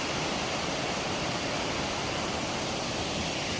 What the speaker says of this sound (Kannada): Iruppu water falls.